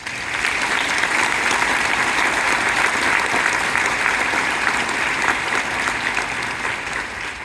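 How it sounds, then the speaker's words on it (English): Sustained audience applause for a military band at an Irish citizenship ceremony in Killarney, a dense, steady wash of many hands clapping indoors, loud and even throughout with no talk over it. "I'd ask you all to give them a massive round of applause."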